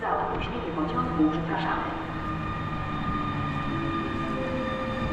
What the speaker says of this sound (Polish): Melduje się pociąg Intercity Pobrzeże z Łodzi Fabrycznej do Kołobrzegu